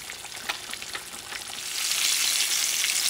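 Red snapper fries in hot oil, a dense crackling sizzle that swells louder and more continuous partway through, near and steady with no voices.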